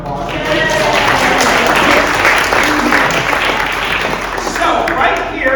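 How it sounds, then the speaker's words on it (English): An audience at an accordion performance claps loudly and steadily for several seconds, a dense close wash of applause with voices talking over it. "Everybody give her a round of applause."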